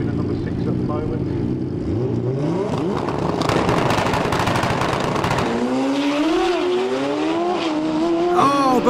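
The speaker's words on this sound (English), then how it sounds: "Oh, but Rick's motor lets go, and that's a huge trail of oil behind him." Super street bikes racing on a track, engines rising and falling in pitch as they pass, with a loud, continuous roar throughout and talking over part of it.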